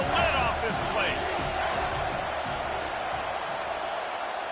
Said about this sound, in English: 3rd down, and this crowd is tearing the lid off this place.